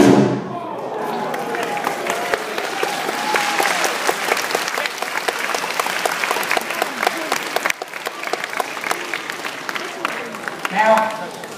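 An audience at a science festival chemistry show in Moscow breaks into loud applause after an explosion demonstration, a thud at the start, then dense continuous clapping with scattered voices and a brief break near the end.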